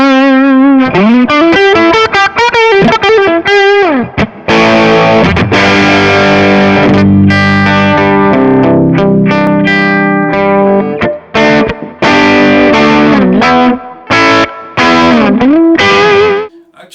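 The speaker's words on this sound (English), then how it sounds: "So this is the wave shaper behind the amplifier" Electric guitar played through a Kemper profiling amp's wave shaper placed after the amplifier in the effects loop, giving loud, distorted riffs and sustained chords with short pauses and no talking.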